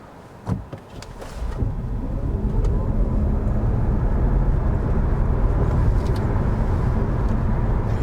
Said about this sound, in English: Now it's time to accelerate this car a bit.